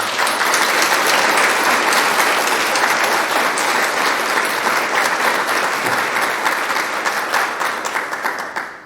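Loud, dense audience applause at a scholarship banquet, a steady wash of many hands clapping that holds for most of the stretch and then thins out near the end.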